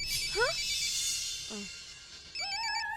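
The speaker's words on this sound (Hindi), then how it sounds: "मुक्ति कपूर का फोन।" A phone ringtone chirps in rising electronic tones, a short burst then a sustained warbling melody, clear and close over faint background hiss.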